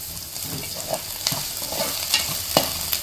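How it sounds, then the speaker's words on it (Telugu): Ginger-garlic paste frying with onions in a pan, a soft steady sizzle with a few light scraping stirs, close and quiet, no talking. "ఇప్పుడు బాగా కలుపుకొని కొంచెం అయితే వేపేసుకుందామండి."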